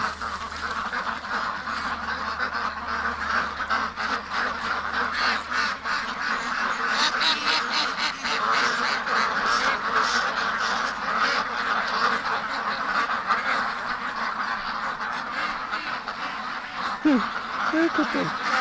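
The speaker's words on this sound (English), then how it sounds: "Poor ducks don't understand." A flock of ducks shut in their pen, quacking and honking almost without a break, loud and close, with a person talking over the noise now and then.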